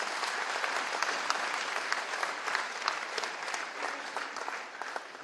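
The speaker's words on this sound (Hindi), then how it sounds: "एक बार जोरदार ताली बजाओ मुख्यमंत्री जी के लिए" An audience claps steadily for the Chief Minister of Madhya Pradesh at a public event, a dense, sustained round of applause filling the hall with no talking over it.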